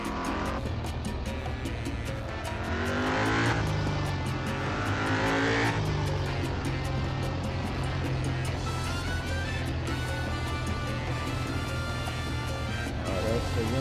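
A classic car driven in a driving-school simulator game, its engine droning steadily with some revving and tire noise, continuous throughout, with someone talking over it.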